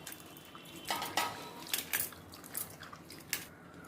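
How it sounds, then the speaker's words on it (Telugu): Cauliflower florets are stirred by hand in salted water in a bowl, giving soft sloshing and squishing with scattered light clinks against the bowl, close and intermittent. "3వసారి ఇట్లా సాల్ట్ వేసుకొని బాగా కలుపుకుంటాం."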